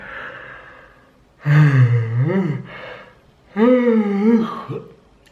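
Two long, drawn-out yawns with a rising and falling voiced groan, close and loud, separated by a brief pause.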